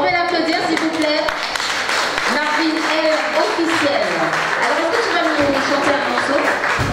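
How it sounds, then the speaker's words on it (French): Audience applause at a live stage event, mixed with people talking and cheering over it; the clapping runs continuously for several seconds at a fairly loud level. "On peut l'applaudir s'il vous plaît."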